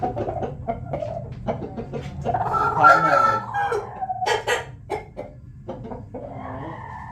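A young rooster gives a short, strained crow amid scattered clucks and bird calls, close up, with some background noise.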